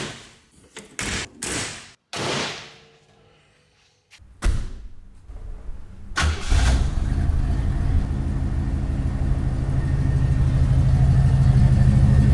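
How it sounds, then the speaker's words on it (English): A 1977 Pontiac Grand Safari station wagon: door slams and thumps at first, then the engine starts and settles into a steady, close running drone as the car drives on. "Taking it for a nice drive here."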